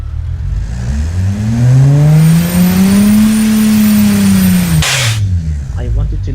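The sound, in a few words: 2.7L EcoBoost V6 replica engine running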